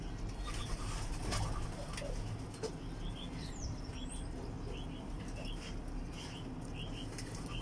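Turtle doves coo softly in repeated short calls at close range while being hand-fed, over a steady broadband background with occasional wing flutters.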